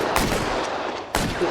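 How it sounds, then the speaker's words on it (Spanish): Gunfire breaks out in a shootout in a 1940s Hollywood-era Los Angeles detective video game, two loud sharp shots separated by about a second over a dense rumbling backdrop. "Tiroteo."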